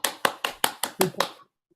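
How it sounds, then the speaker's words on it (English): Attendees of an online orientation session for an L1 course clap about seven times, crisp and evenly spaced over a second and a half, close to the microphone, then stop into silence. "And just clap ourselves for attending this session"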